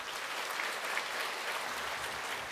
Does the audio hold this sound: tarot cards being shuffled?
no